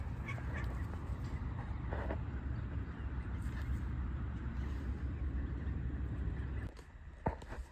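Ducks on a farm honking and quacking in a busy, continuous flock chorus at moderate distance, with a dog nearby and brief sharper calls near the end.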